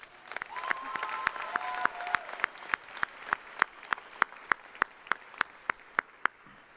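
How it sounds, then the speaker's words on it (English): At a university commencement ceremony, a small audience claps for graduating students. The claps are sharp and distinct, falling in a steady, fairly regular rhythm for several seconds, and a voice is heard briefly near the start. "Let's give them an applause."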